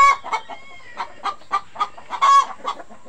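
Rhode Island Red chickens in a coop cluck in short, repeated bursts at close range, roughly a dozen sharp calls in quick uneven rhythm with no other sound.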